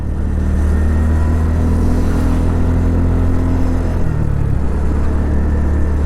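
A heavily loaded vehicle strains up a rainy hill road toward Doddabetta peak in Ooty, its engine a loud, steady, close drone that drops in pitch and labors near the end.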